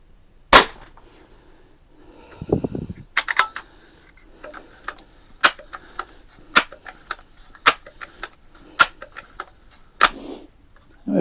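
Barra 1866 rifle firing at a target, a series of sharp cracks spaced a second or so apart, each with a brief echoing tail, plus a few faint handling clicks between shots.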